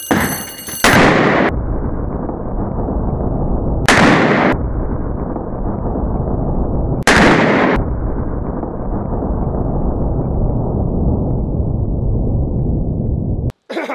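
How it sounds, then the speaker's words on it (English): Three very loud gunshots from a .460 Magnum hand cannon fired at eggplant, each a sharp blast followed by a long rolling echo, spaced a few seconds apart outdoors, with a fourth brief bang right at the end. "Up next, we're gonna shoot some eggplant."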